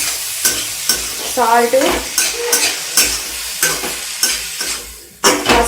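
Jackfruit curry with tamarind paste being stirred in a pan, with a spoon scraping and clacking in a steady rhythm over a soft sizzle. Close and fairly loud, with a brief spoken word near the end.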